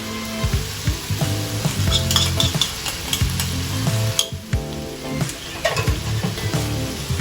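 Minced pork and dissolved shrimp paste are stir-fried in a pan. A dense, continuous sizzle is broken up by steady scraping and stirring strokes, close and loud, with no talking.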